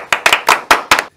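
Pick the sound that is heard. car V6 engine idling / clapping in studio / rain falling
clapping in studio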